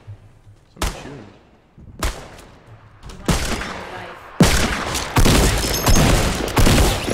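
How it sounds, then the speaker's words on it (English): Gunfire in the battle royale game Fortnite: sharp single shots ring out about a second apart, each with a decaying tail. They grow louder and closer, then merge into a rapid, sustained burst of fire. "Somebody's shooting."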